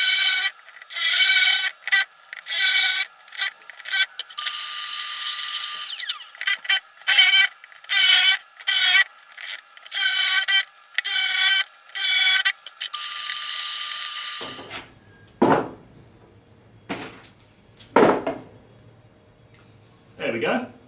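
A Forstner bit bores a row of holes into 9mm MDF to make a template, heard as repeated loud bursts of rasping, whirring drilling separated by short pauses. The bursts thin out toward the end into scattered taps and handling noises.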